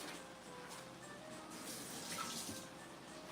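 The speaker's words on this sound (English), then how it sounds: "let me rinse this knife off really quick" A kitchen tap runs steadily while a knife is rinsed under it, a close, even wash of water with faint clinks.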